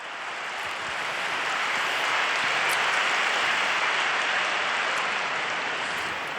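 Sustained applause from an audience inside a basilica at a papal general audience, a dense even wash of many hands clapping that swells slightly and holds steady throughout, with no talking over it.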